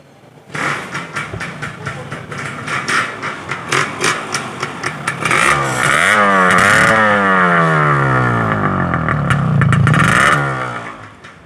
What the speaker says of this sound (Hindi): ये पावर मशीन हमारे सामने, कावासाकी GTO